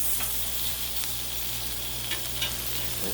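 Halibut sizzles steadily on a Blackstone griddle, a loud, even frying hiss broken by a few small pops and scrapes, close up with no talking.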